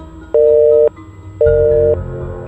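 A failed phone call heard over a speakerphone: two loud, steady electronic beeps, each about half a second long, separated by a short pause, with faint room noise underneath.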